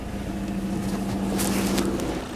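An Audi A5 car engine turning over and settling into a steady idle, a low continuous hum with a brief rise in noise partway through, heard close up with no talk.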